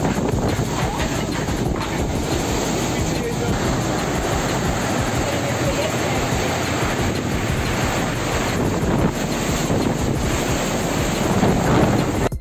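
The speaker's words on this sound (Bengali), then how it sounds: "সৌভাগ্যবশত এই লোকটি তুফান তৈরি হওয়ার দৃশ্য তার ক্যামেরায় বন্দী করে ফেলেছে।" Strong wind from a forming storm roars and buffets the microphone continuously, a loud, dense rush with no letup.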